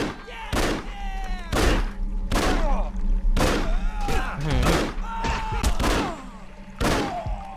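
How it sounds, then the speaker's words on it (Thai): Gunfire and heavy impacts in the video game Afterfall Insanity Extended Edition, loud repeated shots and thuds arriving in bursts roughly every half second to second, mixed with game voices and effects. "นั่นมีคนใช้ปืน มีคนใช้ปืน มีคนใช้ปืนกัน"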